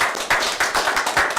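An audience claps at a commission meeting, a short burst of close, fairly loud, slightly irregular claps with a steady rhythm.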